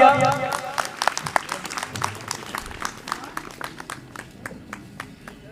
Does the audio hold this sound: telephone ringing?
no